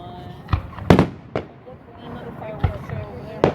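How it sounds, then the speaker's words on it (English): Fireworks bursting over Selma, California: several sharp, loud booms spaced irregularly, the two strongest near the start, with people talking quietly between the blasts. "Another fireworks show over there."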